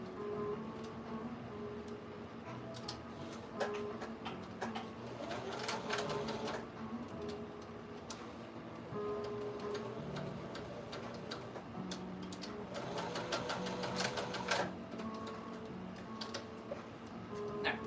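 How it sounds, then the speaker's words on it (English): A sewing machine running in short bursts of rapid stitching on a craft doll, quiet and mechanical, with pauses between runs and faint clicks. "Let's see if I can catch that real quick with my sewing machine."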